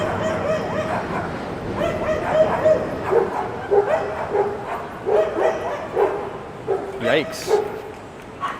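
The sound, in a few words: many dogs barking and yipping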